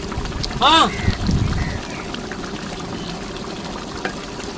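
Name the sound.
pouring ghee into mutton biryani pot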